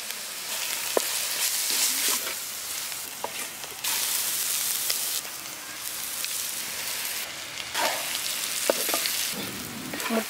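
Egg masala with cabbage and capsicum frying in a pan, a continuous crackling sizzle broken by bursts of stirring and scraping, close and steady with no talking.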